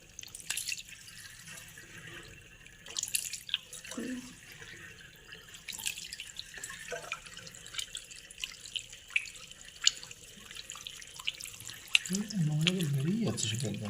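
Running water splashes and drips as parts of a small home aquarium are rinsed clean, a close, uneven wash of trickling and spattering, with people talking over it throughout.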